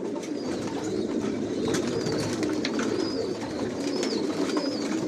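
Racing pigeons coo steadily in a loft in a low, rolling murmur, with a few higher chirps and faint wing flutters over a constant background hum.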